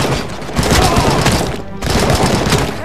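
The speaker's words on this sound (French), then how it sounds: "on dirait un fusil de Call of Duty quoi" Rifle gunfire from the video game Robocop: Rogue City, a dense burst of heavy, muffled blasts and thuds that rolls on continuously, briefly broken before resuming, loud and close.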